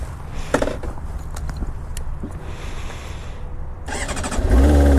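A sport bike motorcycle engine running at a low idle rumble, with a few mechanical clicks, then a sudden loud starting burst close by near the end.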